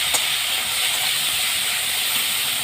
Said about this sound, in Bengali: এই সমস্ত উপকরণগুলোকে দিয়ে আমি ভালো করে নেড়ে চেড়ে মশলাটাকে কষে নেব।